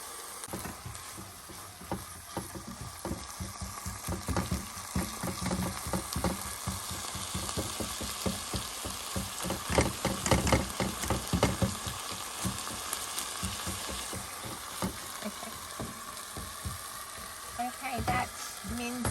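Ground mince browning in a pan at an off-grid campsite, a steady close sizzle with frequent scraping stir strokes running throughout, moderately loud with no voice.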